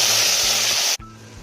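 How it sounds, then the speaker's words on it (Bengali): Potatoes fry in oil in a wok, a loud, close hissing sizzle that cuts off sharply after about a second, leaving a softer hiss and low hum. "এখন আলুটা ভেজে নেব।"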